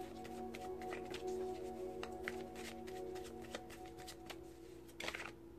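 Tarot cards are shuffled by hand in quick, dry riffling bursts and soft slaps, close and quiet, with a low steady hum underneath.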